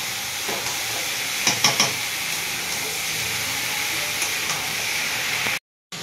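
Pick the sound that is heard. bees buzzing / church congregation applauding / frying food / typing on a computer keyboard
frying food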